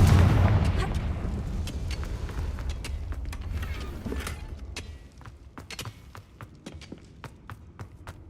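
Confringo blasting spell in Hogwarts Legacy, a heavy explosive boom that fades into scattered sharp cracks and impacts.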